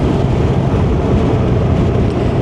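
A Morbidelli T1002V 1000cc motorcycle engine pulls up steadily under acceleration in second gear, a continuous close, loud low rumble with no talk over it.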